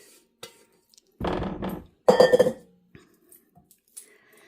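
Cake batter for a Depression-era tomato soup cake scraped from a bowl, heard as two short bursts of scraping and clinking utensil against bowl, surrounded by a few scattered light clicks and knocks in a quiet room.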